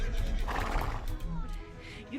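A horse whinnies in a film scene, a loud, close neigh rising over a dense, busy background with talk mixed in.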